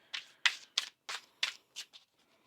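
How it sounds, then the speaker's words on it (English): Tarot cards being shuffled by hand, close and quiet, in a series of about seven short crisp riffling bursts with brief pauses between them. "One more shuffle here."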